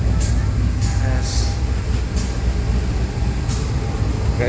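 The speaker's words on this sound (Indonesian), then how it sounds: "Ada kereta Brawijaya berhenti di stasiun Malang Kota Lama." Brawijaya passenger train stopped at Malang Kota Lama station in Indonesia, a steady loud low rumble of idling railcars and engine noise with occasional sharp hissing bursts, filling the platform.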